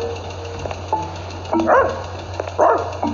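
A pet dog barks twice in a flower shop, two short close yaps over a steady low background hum, with soft whimpery noises in between.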